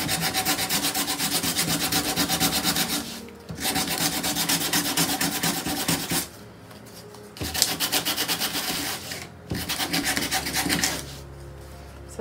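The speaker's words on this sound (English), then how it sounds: "I want to be careful that I don't go too heavy-handed with the sandpaper, else I'm going to tear a hole through the canvas" Sandpaper rubbing across a painted canvas to age the tan background edges of a portrait, loud close scratchy strokes in long continuous bursts separated by brief pauses, no voices.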